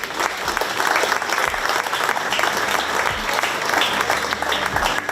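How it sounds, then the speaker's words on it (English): Crowd applause at a county fair 4-H/FFA market beef show, honouring the showmen; a broad, sustained round of clapping from the stands, fairly loud and steady, with low rumbling underneath. "let's give them one more round of applause"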